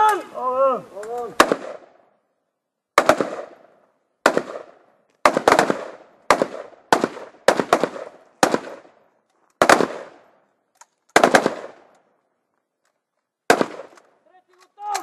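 Rifles fire at a shooting range during a commando challenge in Bulgaria: about a dozen sharp, loud cracks with echoing tails at irregular intervals, and a voice shouting briefly at the start.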